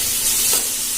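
Chopped vegetables (tomato, carrot, onion, beans) sautéing together in a pan for a veg bread sandwich, a steady close sizzle with a brief swell of stirring midway.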